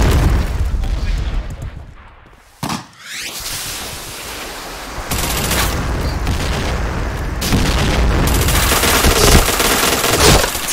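Gunfire in the video game Point Blank, loud bursts and rattling shots over a dense roaring background, with a sudden drop to near quiet before the noise swells back and carries on steadily.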